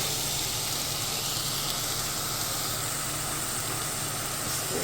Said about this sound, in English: Just let it stay there and steam.